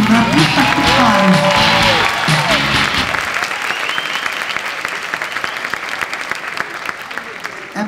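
Loud audience applause at a motivational talk, dense and sustained, with cheering and voices mixed in at first, then thinning into steadier clapping that continues to the end.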